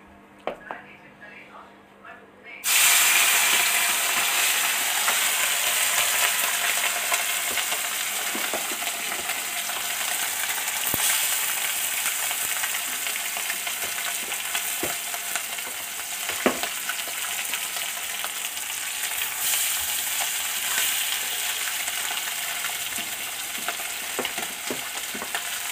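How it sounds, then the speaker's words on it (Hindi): Chela fish drop into a hot kadhai of oil and break into a loud, continuous sizzle that holds steady for over twenty seconds, with occasional stirring clinks and a voice talking over it. "देखिए फिर से हमारा कढ़ाई गर्म हो चुका है, अब उसमें जो बचा हुआ फिश है उसको भी डाल देते हैं"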